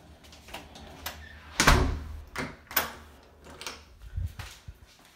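A house door swings open and shuts indoors, with a sharp latch clack in the middle and a softer thud near the end, among a few quieter knocks and shuffles, no talking.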